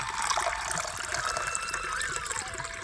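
Water being poured into a brass urli vessel, a steady trickling and splashing flow that goes on close by throughout, with no talk.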